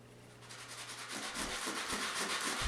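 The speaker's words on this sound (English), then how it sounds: "Sand down the rough edges of the holes as needed." Rough edges around fastener holes in a wall being sanded by hand, a soft close scratchy rubbing that comes in uneven strokes and slowly gets louder, heard alone.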